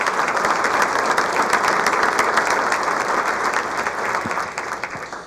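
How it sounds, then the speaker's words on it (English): Steady, full applause from a crowd for the board at a State of the State event, loud and sustained before tapering off near the end, with no talking. "A round of applause for our board for joining us."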